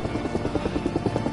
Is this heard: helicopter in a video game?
yes